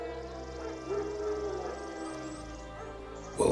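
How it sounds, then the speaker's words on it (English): Wild dogs bark and yelp in The Witcher 3: Wild Hunt, a string of distant, wavering canine calls and whines layered over a tonal game music bed, with no speech. "Wild dogs."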